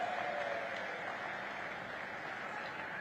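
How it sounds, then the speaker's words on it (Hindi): Crowd applause welcoming India's prime minister at a public event in Banswara, a steady, distant wash of many hands clapping at low level. "एक बार जोरदार तालियों के साथ स्वागत और अभिनंदन करें।"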